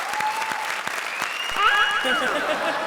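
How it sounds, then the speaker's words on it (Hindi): A studio audience at a comedy stage show breaks into loud, steady applause that carries throughout, with a voice rising over the clapping near the end. "जोरदार तालियां।"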